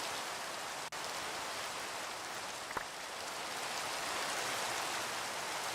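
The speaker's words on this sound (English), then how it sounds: "Rain is loud." Heavy video-game rain pours steadily as a dense, loud hiss that fills the whole clip, with a couple of faint clicks on top.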